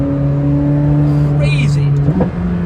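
A McLaren Sabre hypercar accelerates hard, its loud engine holding steady tones with a quick gear change near the end, heard close from inside the car.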